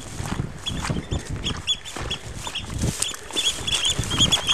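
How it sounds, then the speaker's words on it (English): Agitated birds call excitedly on the shore by one of the Palmerston Forts, a dense, overlapping chorus of squawks and chatters that carries on without a break, fairly close and loud. "Obviously the birds are a bit upset."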